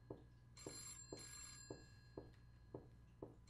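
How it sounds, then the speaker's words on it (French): Telephone ringing in a winter mystery adventure game, a steady series of seven evenly spaced bell trills over a low electronic hum, fairly quiet. "Téléphone."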